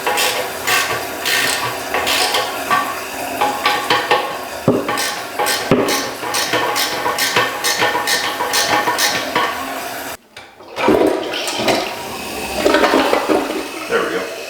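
A household toilet flushes loudly and close, a rushing churn of water with gurgling and sloshing that pauses briefly near the end, then a renewed rush as the tank refills.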